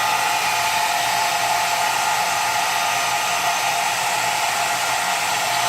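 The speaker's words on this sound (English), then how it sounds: "loud because it's a hair dryer" Hair dryer blowing heat on its low setting: a continuous, loud, steady whooshing roar with a faint motor whine, unchanging from start to finish and with no talking.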